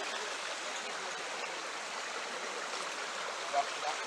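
Steady rush of a flowing stream in Trelawny, Jamaica, a constant broadband wash of water close by with no let-up, one small splash near the end.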